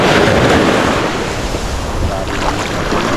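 Strong wind roars steadily and buffets the microphone, with a rushing, surf-like noise throughout.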